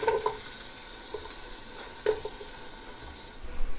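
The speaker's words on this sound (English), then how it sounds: "we're going to go ahead and throw all our veg in" Chopped vegetables hit a hot pot for cheeseburger soup and sizzle steadily, with a few scrapes and knocks of stirring near the start and middle over a constant frying hiss.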